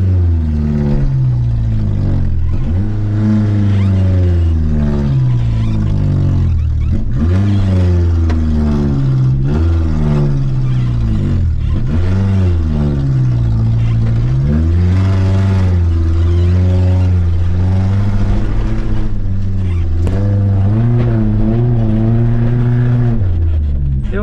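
A Renault 4L engine revs hard while the car is stuck in desert sand, droning loudly and close with repeated rising and falling surges as the throttle is worked, continuous throughout.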